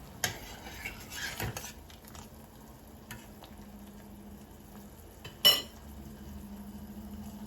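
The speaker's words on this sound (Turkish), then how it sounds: "Bir parça da tereyağı atalım ve karıştıralım." Sugar syrup for a rolled Turkish dessert, with lemon salt and a knob of butter added, bubbles quietly in a pot while a utensil stirs it, giving a soft simmer and a few sharp clinks against the metal.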